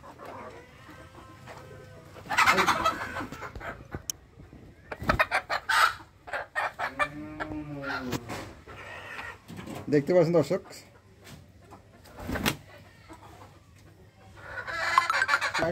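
Native chickens cluck and squawk inside a pigeon house, with intermittent nearby clucks and calls, mostly under someone talking.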